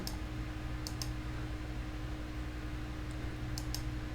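A computer mouse clicks faintly a few times as scattered short taps, some in quick pairs, over a low steady hum with no talking.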